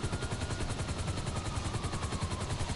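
Rapid automatic gunfire in an online shooter video game, a dense, continuous rattle of shots carrying on steadily without pause.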